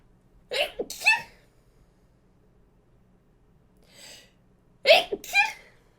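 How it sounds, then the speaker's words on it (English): Two loud, close sneezes with a quieter breathy sound between them, in a quiet indoor room with no talking. "I'm gonna sneeze."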